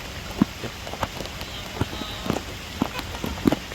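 Monsoon rain falls around Bajpe, a steady wet patter with scattered heavier drops tapping nearby surfaces, moderately loud and close.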